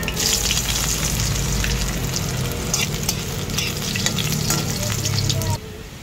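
Garlic sizzles loudly and steadily as it browns in a frying pan for a Filipino pork bone soup, with occasional stirring scrapes and crackles, close and continuous, quieting near the end.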